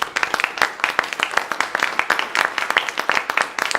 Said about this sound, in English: A round of applause for Hardeep, please.